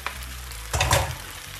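Rice noodles with vegetables and mushrooms sizzle in a non-stick pan as they are stirred, with a brief burst of scraping and tossing over a steady frying hiss, and no talking.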